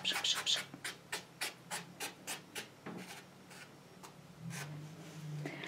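Close, dry scratchy rustling strokes repeat in a steady rhythm, about a dozen quick swishes, then slow into a few scattered scrapes as a voice begins speaking underneath.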